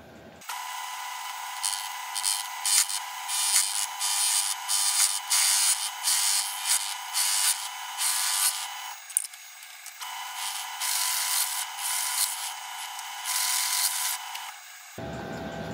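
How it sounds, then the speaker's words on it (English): A high-pitched power drill whines steadily, close and loud, boring an 18mm hole in a steel sump for a Ford Escort, with a brief pause midway before grinding on again, then stopping. "then I can drill an 18mm hole in my sump"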